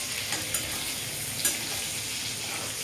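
Ingredients for egg biryani fry steadily in a pan, a dense continuous sizzle with a few stirring scrapes, close and fairly loud with no talking.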